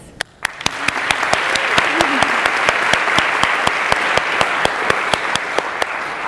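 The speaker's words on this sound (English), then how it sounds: "A big applause for the graduates." Steady, loud applause fills a 2016 commencement ceremony as the crowd claps for the graduates, sharp individual claps standing out above a dense, continuous wash.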